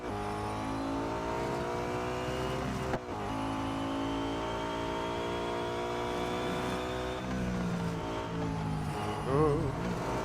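A Nissan R390 GT1 race car engine roars in Real Racing 3, holding a loud, steady high-revving drone with brief gear-shift dips and other cars audible around it.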